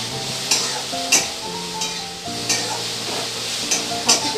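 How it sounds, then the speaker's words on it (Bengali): Cabbage and other vegetables lightly fry in white oil for chow mein, giving a close, even sizzle with periodic stirring scrapes and no speech. "সব কিছু হালকা করে ভেজে নেবো"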